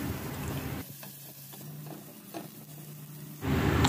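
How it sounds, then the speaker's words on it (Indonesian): Ginger, dried oysters, shrimp and squid stir-fried in a wok: a steady sizzle with scraping stirs, loud at the start and end, quieter in the middle. "Kita tumis harum jahenya dulu, kemudian menyusul tiram kering, udang dan cumi-cuminya. Tumis sampai tercium bau harum."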